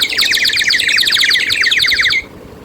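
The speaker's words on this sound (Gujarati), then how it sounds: "એમ ચકલીનો અવાજ કાઢશે। આ માટીની ચકલી છે।" A water-filled clay bird whistle toy, shaped like a sparrow, warbles in rapid trilling chirps, loud and close, before stopping abruptly near the end.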